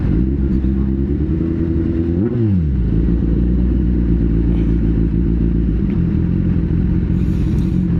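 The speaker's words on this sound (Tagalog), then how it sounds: "Quick ride para makita nyo lang at ma-feel nyo kung ano ang ganda ng motor." A Kawasaki Ninja 1000SX motorcycle on a test ride gives a loud, steady engine drone. The pitch dips and recovers once as the rider shifts or rolls off the throttle, then holds a constant cruising hum.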